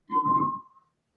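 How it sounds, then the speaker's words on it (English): A single short whistled note from a person, clear and fairly close, steady in pitch for under a second and then fading, with no talking. "Yeah, I heard him whistle."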